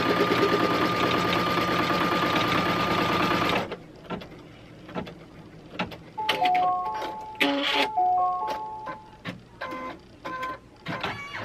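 An embroidery sewing machine stitches a luggage tag in the hoop, first a steady dense mechanical whir, then a quieter stretch of intermittent stitching with rhythmic clicks and short tonal beeps close by.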